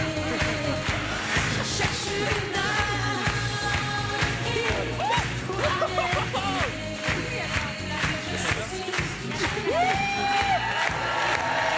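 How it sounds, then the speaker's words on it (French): A lively live audience cheers, whoops and applauds, with loud shouts and whistles over continuous clapping and crowd noise throughout. "Applaudissements pour Antonia"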